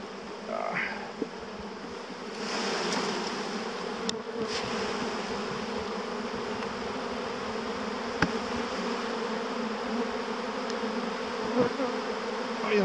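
A honey bee swarm covering a small hive box hums steadily and close, a continuous dense buzz with occasional bees zipping past, no voices.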